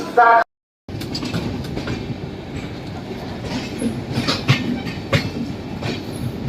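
Train passing at Patna's Rajendra Nagar station, a broad steady rumble with rhythmic clickety-clack and occasional sharper metallic clanks, close and continuous after a brief dropout near the start.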